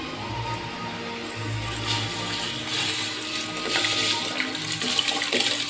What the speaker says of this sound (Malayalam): അപ്പം നമുക്കിനി അരിയിടാം.